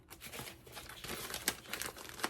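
Crinkly plastic packaging of border stickers being handled and opened, close up, with continuous crackling and crumpling and a few sharper crinkles.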